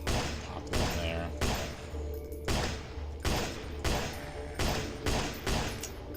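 Shots fired at distant zombies in a zombie apocalypse video game: eight or nine evenly spaced loud gunshots, each with a booming tail, repeating at a steady rhythm.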